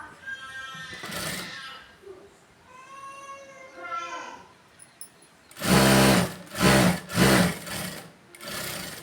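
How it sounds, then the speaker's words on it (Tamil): A sewing machine stitches fabric pieces together in several loud, close bursts of rapid needle clatter, following a stretch of speech and a cat's meows. "அதே மாதிரி இன்னொரு பட்டி பீஸையும் நம்ம தையல் போட்டு எடுத்துக்கலாம்."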